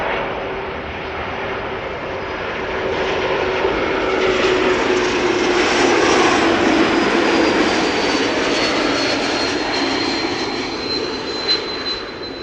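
An Embraer E195-E2 jet airliner roars past nearby, its broad engine rumble swelling and fading, with a high thin whistle running through it.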